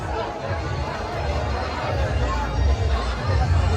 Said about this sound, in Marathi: तुम्हाला गर्दी दाखवता हे बघा अशी काहीशी गर्दी झालेली आहे मंदिराच्या आवारात